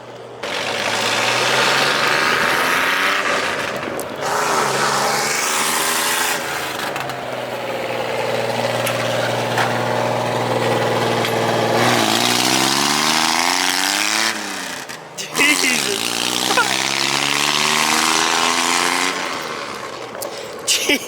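A Suzuki Carry kei truck engine runs loud and raspy like a dirt bike, its pitch climbing and falling through several revs between steadier idle stretches, with a voice talking over it.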